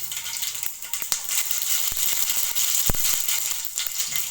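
Mustard seeds crackle in hot oil already holding cinnamon, cloves and cardamom for a South Indian tomato masala rice, making a steady sizzle broken by scattered sharp pops up close.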